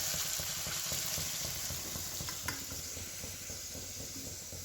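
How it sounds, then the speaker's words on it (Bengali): Batter-dipped stuffed bean pakoras fry in hot oil with a steady, close, full sizzle and crackle, broken by a faint clink near the middle. "এবার এই শিমটা এই যে গোলনাটা গুলে রেখেছি তাতে ডুবিয়ে ভেজে নেব।"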